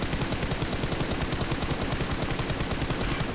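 Rapid, evenly spaced automatic gunfire hammers away nonstop in a battle-royale video game as a player counter-fires, loud and close with no voices over it.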